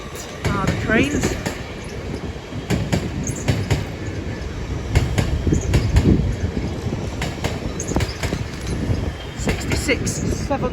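Class 66 freight train passing through Doncaster station, a continuous close rumble with rhythmic wheel clatter and sharp clanks, under heavy wind buffeting.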